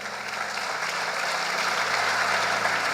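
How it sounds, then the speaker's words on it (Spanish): A church congregation applauds the Lord in strong, sustained clapping that holds loud and even for three seconds, over a low steady musical drone. "Dale fuerte ese aplauso al Señor."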